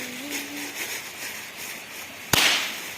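In a Nepali village, one firecracker bursts with a single sharp crack near the end. It is loud and close, with a short hissing tail, after a few seconds of quiet outdoor background.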